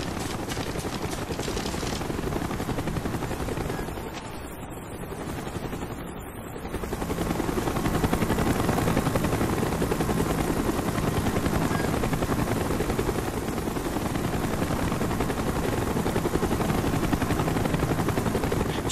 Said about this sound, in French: Hélico, on approche!